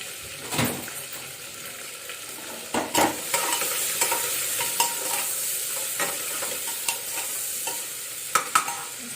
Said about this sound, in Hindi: इसमें डाल दी मैं चावल और ग्रेट की हुई अदरक